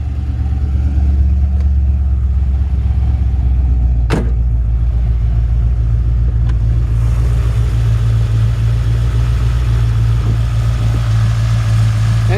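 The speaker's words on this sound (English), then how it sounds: "Engine purrs like a kitten." A 1975 Corvette Stingray with Vortec heads and a loud aftermarket exhaust idles while still warming up, a steady deep low rumble with a couple of brief sharp clicks, close by and without talk.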